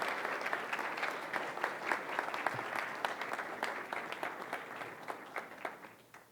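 A church congregation applauds in a sustained, steady wash of clapping with distinct sharp claps standing out, continuing evenly throughout without speech.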